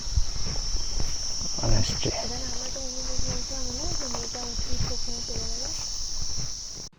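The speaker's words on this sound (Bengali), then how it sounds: "একটু কান পাতলেই ঝিঝি পোখার ডাক পাখির ডাক শোনা যাচ্ছে" Crickets chirp in a steady high-pitched drone in hills near Namchi, South Sikkim, with a bird calling in short wavering phrases and faint footsteps nearby.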